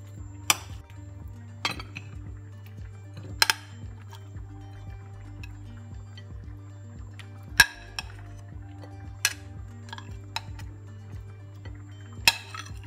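A spoon clinks against a pan while sweet chilli chicken with onion and sauce is mixed: sharp, separate metallic taps at irregular intervals, about seven across the stretch, over a low steady hum, with no talk.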